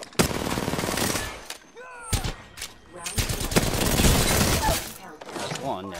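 Gunfire in Apex Legends, rapid automatic bursts and single shots crackling loudly in clusters, with a voice talking over the fighting.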